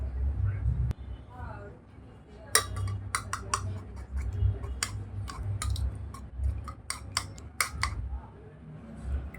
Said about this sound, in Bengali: এটাকে আমি এখন ফেটে নিব